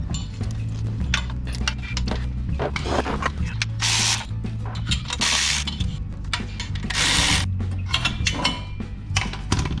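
Ratchet tools clicking as cam plate bolts are undone during a turbo kit install, rapid repeated ratcheting bursts with metallic clinks, close and steady over a low mechanical hum.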